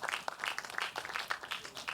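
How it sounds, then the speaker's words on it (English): Quiet applause from an audience at a children's debate competition: a scattered run of distinct hand claps, fairly faint and even, with no one speaking. "A round of applause for her, please."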